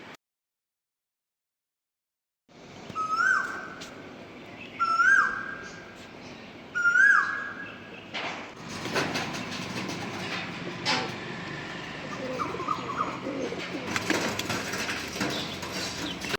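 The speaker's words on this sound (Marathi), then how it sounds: "मध्ये धडपड धडपड धडपड धडपड आवाज येतो आहे ना पत्र्यावरचा, ते कबूतर आहेत." Pigeons thump and scuffle on a tin roof in heavy Pune rain after a bird calls three times in clear, evenly spaced notes; a dense, rough clatter then fills the rest, with no talking.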